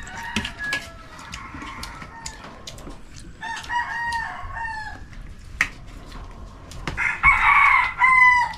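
A hybrid rooster crows several times in a row, loud and close, with clucking and other fowl calls scattered between the crows.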